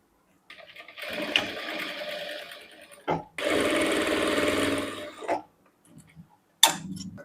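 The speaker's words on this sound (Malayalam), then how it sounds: "1/2 ഇഞ്ച് വ്യത്യാസത്തിൽ അടിക്കാം." Sewing machine stitching a seam on a kandura, fast rattling runs of stitches in separate bursts, the longest lasting about two seconds, broken by short pauses and a brief final burst, close and clear with no speech.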